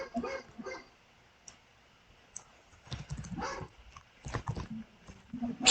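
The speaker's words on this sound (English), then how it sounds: "Sorry about my dogs in the background" Dogs bark intermittently in the background, short sharp bursts spaced out over several seconds alongside light clicking, fairly faint and indoors.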